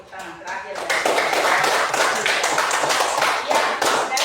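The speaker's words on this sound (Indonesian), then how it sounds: "Sekali lagi tepuk tangan terakhir." A classroom group breaks into clapping after a presentation during a teaching-performance exam, a dense patter of many hands that starts up quickly and holds steady at close range, with a voice over it.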